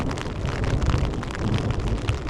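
Steady rain falling during a thunderstorm in a forest at about 10,000 feet elevation, a dense, even hiss of drops with a low rumbling wash beneath, close and continuous.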